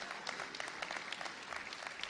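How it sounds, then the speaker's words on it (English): Brief, faint applause from an audience at a bill-signing ceremony, a dense patter of scattered claps with no voices. "You ought to clap your hands for the signing of this bill."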